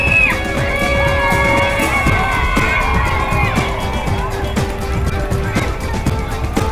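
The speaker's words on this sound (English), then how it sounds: "It was tremendous to see the people cheering" A crowd cheering at an Olympic torch relay in Rayleigh: a steady wash of cheering, whoops and shouts from many people, lively and sustained throughout, with sharp bursts and scattered voices mixed in.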